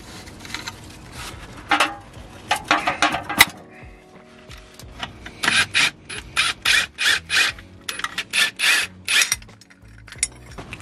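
Rapid ratchet clicking in repeated bursts as bolts on a Skoda's rear gearbox mount are undone underneath the car, close and fairly loud with short pauses between runs.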